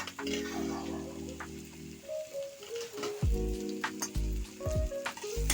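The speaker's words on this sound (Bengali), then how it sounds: "আমি একটু মশলাটা একটু ভাজা ভাজা করে নেব পেঁয়াজটা" Chopped onions and three small bay leaves fry in hot oil for a fish ball curry, a close crackling sizzle broken by stirring scrapes and pan knocks.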